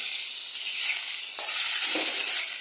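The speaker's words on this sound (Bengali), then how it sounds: "এটাকে একটু ফ্রাই করবো, হালকা করে একটু ফ্রাই করবো" Ginger frying lightly in a pan, a steady close sizzle with soft stirring scrapes on top, holding an even level throughout.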